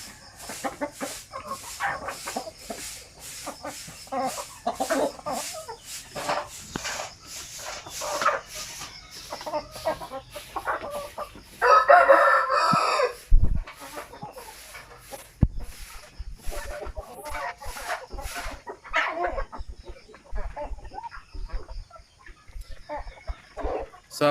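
Native sampin chickens cluck in a steady, busy stream with a rooster crowing partway through, close and moderately loud, with occasional knocks and taps and faint voices in a backyard pen.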